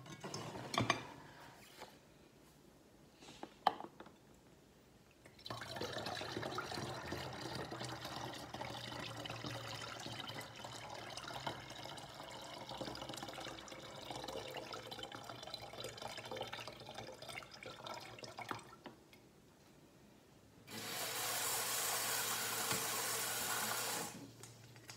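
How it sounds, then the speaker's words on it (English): Rice being washed by hand in water in a basin or pot, sloshing and swishing steadily for a stretch at close range, with a short burst of running water from a tap near the end. "You wash the rice with water like this"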